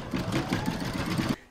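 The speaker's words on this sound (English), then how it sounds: "I've loaded brown thread into my machine, and I'm now going to stitch round number seven" An in-the-hoop embroidery machine stitches with brown thread, finishing the facial features on a bunny mug rug: a steady, fast mechanical whirr with rapid needle pulses, close and continuous, stopping abruptly near the end.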